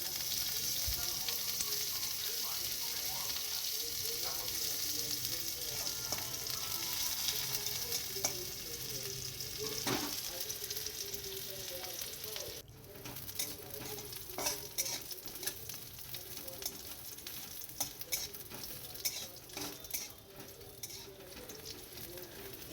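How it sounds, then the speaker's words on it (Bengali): Chopped onions fry with a bay leaf in a pan, a soft continuous sizzle broken by occasional spoon scrapes and stirring clinks, fairly quiet and without talk. "কুচনো পেঁয়াজ দিয়ে এবার ভেজে নেবো।"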